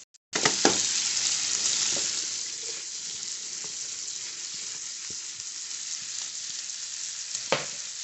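Chopped Vidalia onion dropped into a pan with bacon, bursting into a loud, steady close sizzle that starts abruptly and keeps frying, with occasional stirring clicks and no voices.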